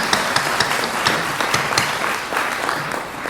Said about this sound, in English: let's do a hand of applause for them because that's amazing